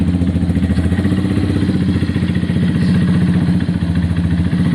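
A Honda CBF 125 motorcycle engine running steadily after starting, a loud, close, even chugging idle with a fast regular beat and light mechanical clatter, no voices.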